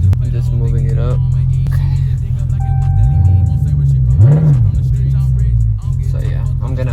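A salvage Dodge Charger Scat Pack's engine idles with a steady low rumble and swells in short revs while the car is driven slowly, up close, with road or cabin noise throughout.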